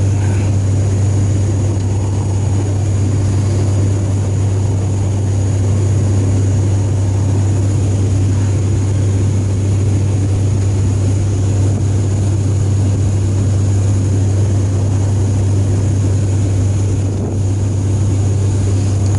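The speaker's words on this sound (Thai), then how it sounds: "เป็นเสียงเครื่องยนต์ใบพัด" A loud, steady droning hum of propeller engines fills the cabin of an ATR 72 in flight at night, with a constant low tone and airy rushing noise, unchanging throughout.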